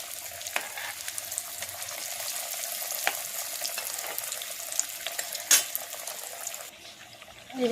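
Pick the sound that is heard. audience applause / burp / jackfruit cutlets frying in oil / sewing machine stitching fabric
jackfruit cutlets frying in oil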